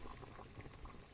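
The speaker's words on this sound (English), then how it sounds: "Boiling it." Noodle water boiling in a pot in an indie horror video game at night, a soft continuous bubbling and gurgling heard faintly and alone.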